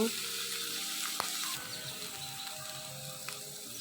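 Spices frying gently in oil over low heat, a soft steady sizzle with faint crackles and a light stir or tap near the start, close and quiet.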